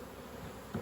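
Honeybees hum and buzz steadily inside a weak single hive with beetles present, a close, continuous drone with a slight swell near the end.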